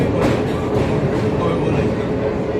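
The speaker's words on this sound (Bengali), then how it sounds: "আর এই কোলাঘাটের ব্রিজের উপর দিয়ে আমাদের ট্রেনটা এখন যাচ্ছে।" A passenger train crosses the Kolaghat bridge over the Rupnarayan river with a loud, continuous rumbling roar heard from inside the carriage, steady throughout without distinct beats.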